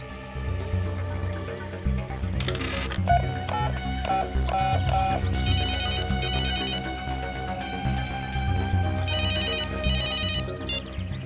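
A mobile phone ringtone plays after a number is dialed, a looping electronic melody with bright chiming beeps repeating over a low background hum, steady and fairly loud with no voices.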